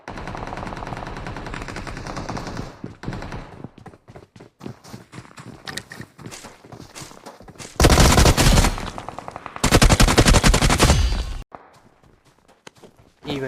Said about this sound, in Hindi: तभी फायरिंग आती है